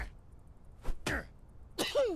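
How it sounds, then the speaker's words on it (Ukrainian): A character sneezing in the video game Quarantine Zone: The Last Check, several short sharp nasal bursts close and fairly quiet, spaced apart in an otherwise still scene. "Ну не чихай."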